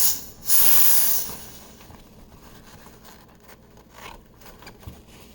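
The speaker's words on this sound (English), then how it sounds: "after you've steamed your milk, you really have to cool off the machine" A burst of loud steam hiss from an espresso machine's steam wand being purged after milk steaming, lasting about a second, then fading into quieter hissing and faint clatter.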